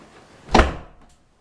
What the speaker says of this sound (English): As he slams my door.